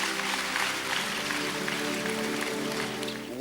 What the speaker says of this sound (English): Clap well, oh, clap well.